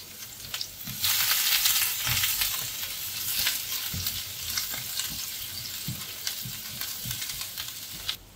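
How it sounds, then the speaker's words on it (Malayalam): Mustard seeds, chopped ginger, green chilli and curry leaves frying in a little oil, a loud steady sizzle with repeated popping and spoon stirring throughout, no voices. "എണ്ണയിലേക്ക് അല്പം കടുക് ഇട്ട് കൊടുക്കാം ഒരു ചെറിയ കഷ്ണം ഇഞ്ചി അരിഞ്ഞത് ഒരു ചെറിയ പച്ചമുളക്"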